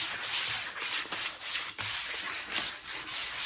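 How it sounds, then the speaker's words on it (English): Wood from a 2x4 bench is lightly sanded by hand with 220 grit sandpaper, giving repeated close rubbing strokes in a steady back-and-forth rhythm with brief pauses between passes. "lightly sand that."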